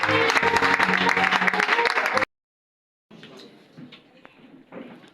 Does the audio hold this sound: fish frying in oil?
no